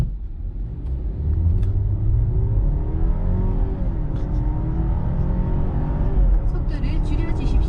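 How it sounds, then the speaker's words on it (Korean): A BMW 530i or Audi A6 accelerates hard from a standstill to 100 km/h, its engine a loud, steady rumble heard from inside the car, with pitch rising through the gears and a voice murmuring briefly underneath. "그럼 지금 여기서 제가 제로백을 다시 한번 해보겠습니다."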